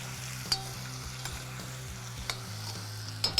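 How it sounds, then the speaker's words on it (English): Tomatoes seasoned with salt and freshly cracked pepper are stirred in a sizzling pan for an Indian meatless dish, a steady close fry with a few sharp spoon scrapes and knocks against the pan and no talking. "Let's give this a nice stir."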